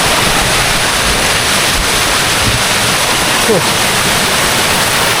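A hidden waterfall in Araku roars loudly and steadily up close, a dense unbroken rush of falling water filling the whole stretch.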